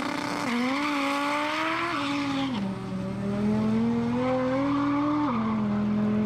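A Volvo 240 with a swapped Lexus 1UZ-FE V8 engine drones and shifts pitch while drifting, tires squealing in long sustained screeches, loud and close, with no talking.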